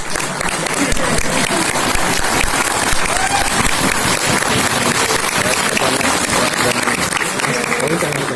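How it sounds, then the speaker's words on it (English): A hall audience at an Indian Science Congress session at Lovely Professional University in Punjab gives loud, dense, sustained applause during a bouquet presentation, a continuous wash of clapping. "Please, a big round of applause as our sectional president is giving a bouquet to our local sectional secretary"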